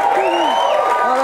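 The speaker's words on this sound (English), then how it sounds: "Did you guys clap because we've got to the end of the season?" A live studio audience at a comedy show in 2008 fills the room with a loud, continuous wash of applause and cheering. Whoops and a voice ride over the dense clapping throughout.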